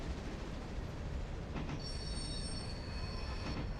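Steam train wheels squeal in the Railroader game, a high metallic screech rising over a steady rumbling rolling noise on the rails, close and continuous with no talking.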